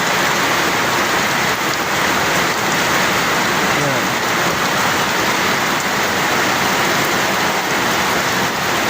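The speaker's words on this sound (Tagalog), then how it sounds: "Ayan o, ang lakas ng ulan no." A steady monsoon downpour in the Philippines roars without pause, thick rainfall pattering loudly on nearby surfaces, with a faint murmur of a voice low beneath it.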